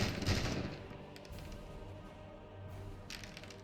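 Short-range gunfire rings out in an Empires of Men battle game: a sharp burst of shots near the start, quieter crackling in between, then another cluster of reports near the end, all fairly faint.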